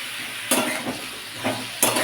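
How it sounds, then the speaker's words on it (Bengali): Salt and turmeric are stirred into papaya in a pan, making a quiet sizzle with a few distinct scraping strokes of a spoon against the pan, up close and without speech. "লবণ হলুদ গুঁড়ো সব ভালোভাবে মিশিয়ে নেবো"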